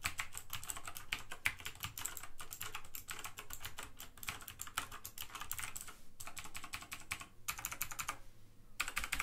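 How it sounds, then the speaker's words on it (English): Rapid clicky keystrokes on a Razer BlackWidow Chroma mechanical keyboard, close and continuous typing with a few brief pauses, no voices. "you can tell that this has a nice mechanical clicky sound to it"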